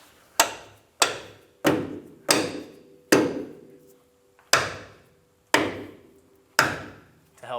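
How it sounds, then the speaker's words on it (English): Eight sharp soft-faced hammer taps on a metal steering rack bracket of a 2000-2006 Toyota Tundra, spaced roughly evenly at about one per second, close and loud with brief ringing decay after each strike. "I'm going to use a soft-faced hammer"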